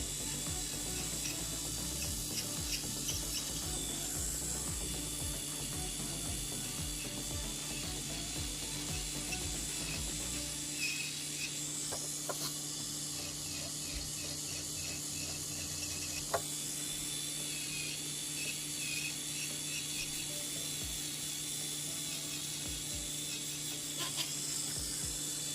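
A small electric nail drill buzzes continuously at a high pitch, removing cuticle skin from the nail, with faint scraping and clicking as it works, close up and steady.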